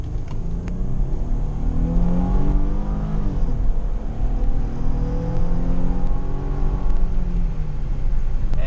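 A Hyundai Grand Santa Fe with a 3.3 V6 and stainless steel exhaust revs repeatedly, its deep rumble rising and falling in several swells, heard close and alone with no talking.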